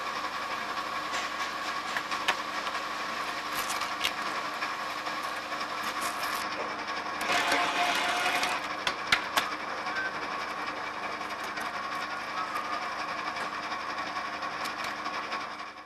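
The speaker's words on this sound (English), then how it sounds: "The machine can be switched on now and the first piece of cable cut through." A BOBR cable stripping machine runs with a steady mechanical whir and rattle as it feeds and cuts through cable, moderately loud with some brief clicks and a louder stretch midway.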